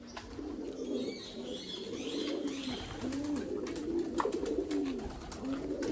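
Several pigeons coo close by, soft repeated throaty calls overlapping in a gentle rolling rhythm, with light rustling in the background.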